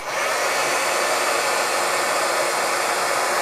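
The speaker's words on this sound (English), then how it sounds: "Now I'm going to take my heat gun and I'm going to turn it on" A heat gun runs steadily for embossing powder, a loud, unbroken blowing roar close by with no break or change in pitch.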